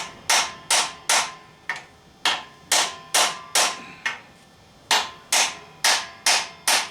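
Sharp hammer whacks on the corners of a part during a GM 9.5-inch 14-bolt differential rebuild, about eighteen crisp metallic strikes in uneven pairs and runs, loud and close with no talk.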